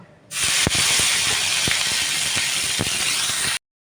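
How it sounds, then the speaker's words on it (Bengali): Cabbage hits hot oil in a wok, bursting into a loud, steady sizzle right after a quiet start, with a few sharp clicks of a utensil against the pan before it cuts off. "আমি এবার বাঁধাকপিগুলো দেব, ভাজবো।"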